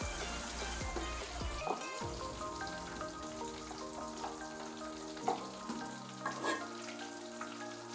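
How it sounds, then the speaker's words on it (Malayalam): Chicken pieces frying in hot oil for biryani give off a steady crackling sizzle throughout, with a few soft clinks and faint tonal background hum and no voices. "അപ്പം അമ്മ ചിക്കൻ്റെ പരിപാടി നടക്കുന്നുണ്ട്, വറുത്തുകൊണ്ടിരിക്കുന്നുണ്ട്"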